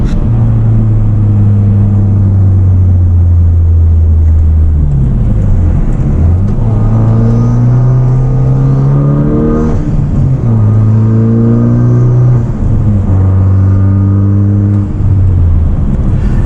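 A 2016 Hyundai Veloster Turbo engine revs hard and close, climbing in pitch through several gear changes, dropping and rising again in repeated surges of acceleration.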